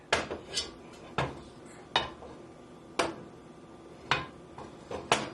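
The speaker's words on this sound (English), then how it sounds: "I just swirl it around just to make sure my entire pan is covered" A frying pan holding about a tablespoon of oil is swirled on the stove, giving sharp metallic clanks and knocks roughly once a second over a quiet background.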